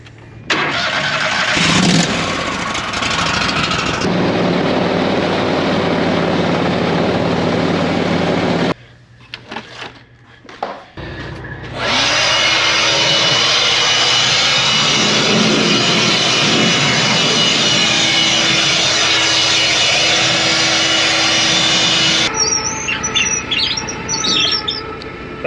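A grain processing machine runs, with internal wipers cleaning its shafts as it handles hemp, producing a loud, continuous mechanical roar. The noise drops away briefly in the middle, then resumes at full strength.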